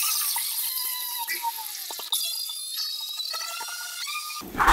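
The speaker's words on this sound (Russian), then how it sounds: "блендером самая быстрая тема взбить все это" A blender whips a boilie bait mixture with a high, whining motor squeal that wavers in pitch, close and continuous, ending in a louder burst of churning noise.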